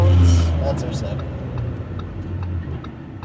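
Lamborghini Huracan V10 engine at full throttle with an upshift, a loud steady engine roar under a voice talking over it.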